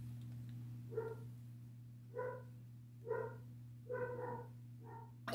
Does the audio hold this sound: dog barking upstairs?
yes